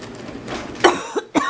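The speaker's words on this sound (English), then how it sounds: "I don't know why I have this terrible cough." A few short, harsh coughs close to the mic indoors, in quick succession with a brief pause between, no speech.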